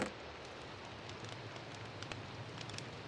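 Rain falls in the Minecraft video game, a faint, steady hiss of rainfall with scattered soft patters, alone and without talk.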